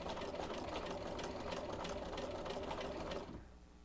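A sewing machine stitches a quilt block, running as a loud, steady mechanical whir for about three seconds before it cuts off into quiet.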